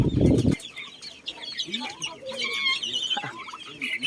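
Backyard chickens being fed banana peels cluck and squawk in a busy outdoor chorus, with a loud rustle or flap at the start and scattered wing and foot movements throughout.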